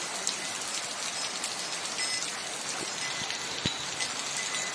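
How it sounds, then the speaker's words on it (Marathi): Heavy monsoon rain pours down in a rural village, a dense, even hiss of drops with occasional sharper splashes on nearby surfaces, steady and unbroken, with no voices. "जोरात पाऊस आला, एकदम छान वाटलं।"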